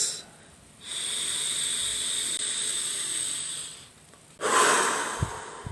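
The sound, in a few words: deep breathing exercise, wave breathing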